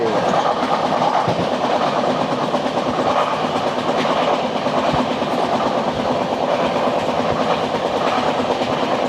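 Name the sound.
Kolkata Express train running on rails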